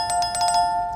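A bright, rapid ringing bell chime sounds as a notification effect, several quick strikes over a sustained tone, loud and close with no talking.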